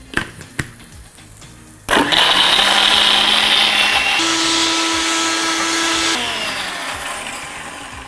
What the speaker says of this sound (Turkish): Blender'dan geçiriyorum.